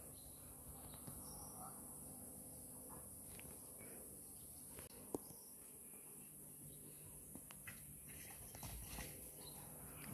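Faint, rhythmic hoofbeats come from a horse pushing cattle toward a fence outdoors, with birds and insects softly in the background.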